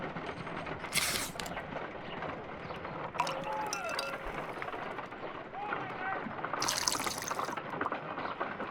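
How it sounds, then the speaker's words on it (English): Liquid pouring from a bottle into a glass test tube in the Sherlock Holmes Crimes and Punishments video game. Two short bursts of trickling and splashing sit under ambient background noise, with a spoken voice between them. "Let us pour liquid from the bottle into a test tube to perform an analysis."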